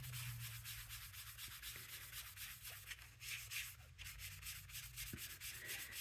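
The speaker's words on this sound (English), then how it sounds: "That needs to be rubbed a little better" A finger or brush rubs gilding flakes onto a craft surface in soft, steady scratchy strokes, faint and close, with a low background hum and no talking.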